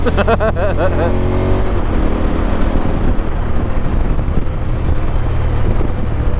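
A 2021 KTM 1290 Super Adventure S motorcycle ridden along Scottish roads, its engine droning loud and steady under heavy wind buffeting, with a brief rising rev at the start.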